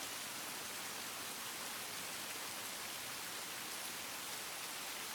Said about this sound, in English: I listened to the sound of rain.